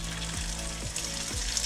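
Food sizzles steadily in a hot pan for a rice bowl, a continuous close frying hiss with a few soft thumps as pieces are set down, no talking.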